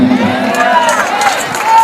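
A large, dense crowd of devotees at Bageshwar Dham temple, a continuous murmur of many voices with scattered shouts and cheers, close and fairly loud throughout.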